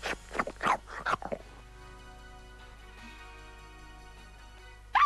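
A puppy in the Wii U video game Die Rettung der Welpen gives a quick run of yips and barks at the start, then fades to a steady electronic music bed, with one more short yip at the very end.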